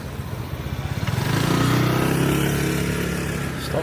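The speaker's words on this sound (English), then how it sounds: "Stop for the motorbike." A motorbike passes close by on a street in Chiang Mai's old town, its engine droning low and rising to a loud, steady pass before easing off slightly at the end.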